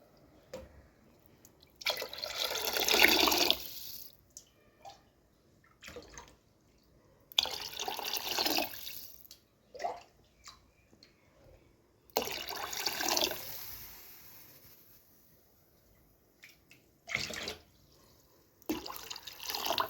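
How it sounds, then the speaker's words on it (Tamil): Water is poured tumbler by tumbler into a pot for white pongal, about five separate splashing pours of a few seconds each with quiet pauses between them. "இப்போ அஞ்சு டம்ளர் தண்ணி சேர்த்துக்கலாம்"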